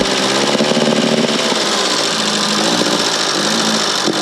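A homemade go-kart engine runs rough and stumbly at close range, a loud continuous mid-pitched drone with uneven, faltering pulses and no talk over it.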